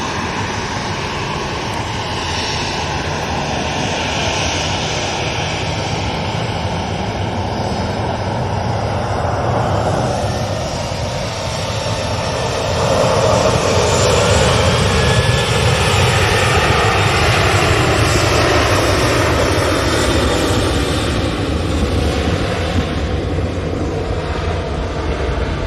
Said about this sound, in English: Second flight out to Ibiza this morning.